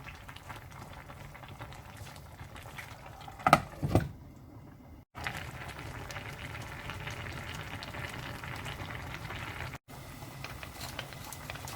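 Pork kimchi stew with chili and green onion bubbling in a pot, a steady low simmering burble throughout with a brief louder clatter near the middle and two short cuts to silence.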